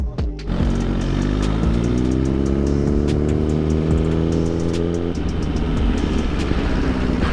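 A Suzuki GSX-R 1000 motorcycle rides at night, its engine revving up in a rising whine, then settling into a rougher rumble scattered with short exhaust pops and crackles, close and loud throughout.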